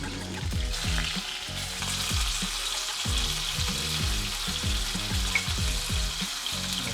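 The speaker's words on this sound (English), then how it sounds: "Then what I'm gonna do is I'm gonna add the pork." Pork sizzles steadily in a hot pan with garlic for a pork adobo patty melt, a loud continuous frying hiss with repeated low scraping and stirring strokes, close up and with no talking.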